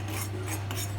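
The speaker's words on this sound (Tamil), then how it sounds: "முந்திரி பருப்பு போடணும்." Cashew nuts frying in ghee in a pan give a steady, dense sizzling hiss over a low constant hum, with no talking.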